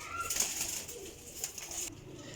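A female pigeon coos softly and briefly amid faint background noise and indoor clutter, the call low and subdued rather than prominent.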